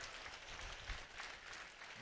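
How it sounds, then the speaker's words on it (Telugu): Applause from a congregation at a church prayer service, a continuous, fairly soft patter of many hands clapping at a distance. "గట్టిగా చప్పట్లు కొట్టి ప్రభువుని స్తుతించండి."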